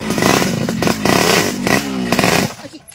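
A motorcycle engine cranks and sputters in a few rough, uneven bursts up close, with clattering mechanical noise, before cutting out and going quiet near the end.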